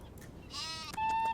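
Sheep in a video game gives a short, wavering bleat followed by a second one, close and clear, with no talk.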